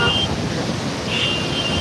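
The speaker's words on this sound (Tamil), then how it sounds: "இதாங்க மேட்டூர் டேமு பதினாறு கண் மதங்கள் வழியாக தண்ணி உபரி நீர் வெளியில் போயிட்டுருக்குது" Surplus water rushes out through the sixteen sluice gates of the Mettur dam, a loud, steady broadband roar filling the whole clip with no break, heard up close.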